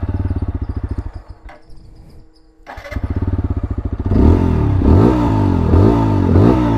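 A TVS Apache RTR 160 4V motorcycle idles with a steady throb, cuts out briefly, then turns over with a clatter from the starter and fires into a louder, settled idle with a few blips of the throttle, close up and with no talk.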